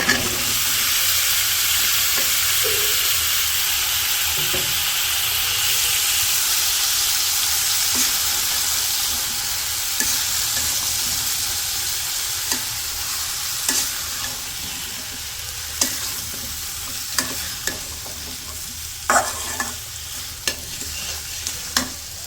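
Spices, then potatoes and ridge gourd, sautéed and stirred in a hot pan on a village kitchen stove, a steady close sizzle with frequent scraping stir clicks throughout, no voices.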